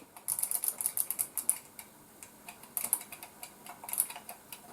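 A mechanical egg-shaped kitchen timer ticks rapidly and steadily nearby, the clicks coming in runs with a brief pause in between.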